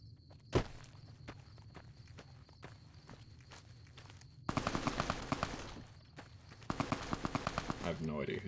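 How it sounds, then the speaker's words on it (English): Gunfire in Fallout New Vegas: bursts of rapid repeated shots in two clusters, moderately loud, alongside footstep-like thumps and an earlier single sharp report, with game ambience between. "I have no idea who's shooting"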